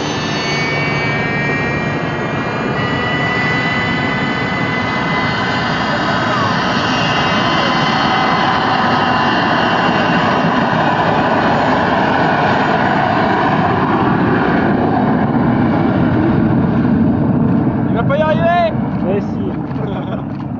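A private jet takes off in the French Alps, its engines making a loud, steady roar that holds for the whole stretch with no letup.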